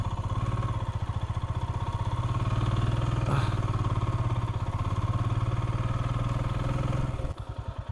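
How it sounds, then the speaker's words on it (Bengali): A motorcycle engine drones and rattles steadily while the bike crawls over a badly broken mountain road between Mangan and Lachung in North Sikkim, with a brief sharp knock midway and a sputtering change near the end. "ওরে বাবা রে, তলা ঠেকছে পুরো বাইকের। এটা গেলবারের থেকেও খারাপ রাস্তা।"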